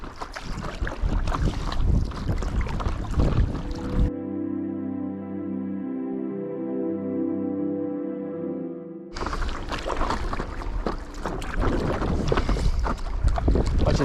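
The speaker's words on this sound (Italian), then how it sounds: "Adesso troveremo di nuovo un po' di vento" Strong wind buffets the microphone at sea while a stand-up paddleboard is paddled near Tavolara, Sardinia, loud and roaring, then it cuts out for several seconds of steady tonal hum before the gusts return.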